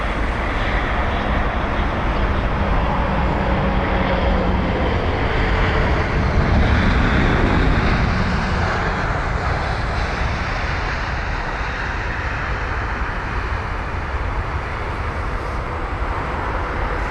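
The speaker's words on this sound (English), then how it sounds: "So this is the 787-8 Dreamliner with the reg Charlie Golf Hotel Papa Victor, or CGHPV" An Air Canada Boeing 787-8 Dreamliner jet, arrived from Calgary and being de-iced, gives a steady, broad engine roar that holds at a loud, even level throughout with slight shifts in tone and no voices.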